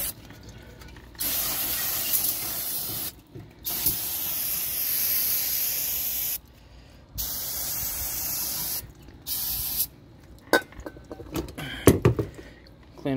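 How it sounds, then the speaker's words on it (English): Brake cleaner hisses from an aerosol can onto rear axle parts and backing plates in long, loud bursts separated by brief pauses, followed by light clattering of parts at the end. "And we'll go to town with the brake clean, make sure everything's clean."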